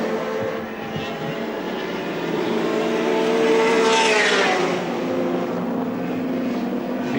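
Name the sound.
Holden Commodore touring race cars at Lakeside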